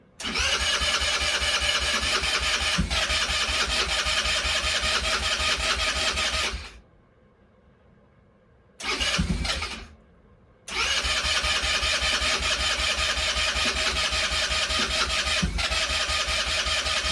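An ATV engine cranks on its electric starter in long, loud, steady bursts: about six and a half seconds of grinding, a short pause, a brief burst, then another sustained crank. No one speaks.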